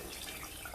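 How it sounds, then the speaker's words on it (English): Cold water pours into a cooking pot of peas, a brief steady splashing rush heard up close with no other sounds. "All I'm going to do is add some cold water to it."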